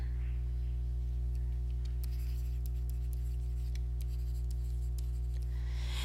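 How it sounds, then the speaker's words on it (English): Marker or chalk strokes scratch across a board in short, quick bursts, faint and close, over a constant low electrical hum. "let me write that down"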